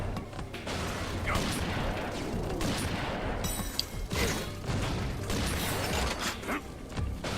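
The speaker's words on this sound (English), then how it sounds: "It's just a straight up shotgun." A straight-up shotgun in the video game Rusty Rabbit fires in a string of loud blasts, each followed by mechanical clanks and crunching impacts, spaced irregularly across the stretch.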